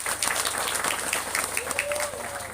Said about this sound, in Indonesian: Untuk itu kita tepuk tangan buat kita sendiri.